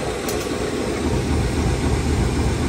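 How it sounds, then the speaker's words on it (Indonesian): A Penataran Doho train undergoing shunting at a railway station, heard from inside a carriage: a steady, loud low engine rumble with a continuous mechanical drone and no talking. "Ini aku sekarang lagi nunggu proses langsiran kereta api"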